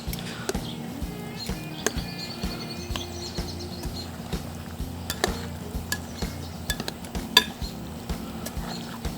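Jalapeno ranch dressing is stirred into pasta salad in a bowl, with soft clinks and scrapes of a utensil against the dish in irregular bursts at low volume.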